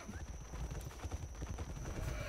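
Horse hooves clip-clop in a Roblox Wild West video game, a quick run of soft rhythmic thuds over a thin high tone, fairly faint, with no talk.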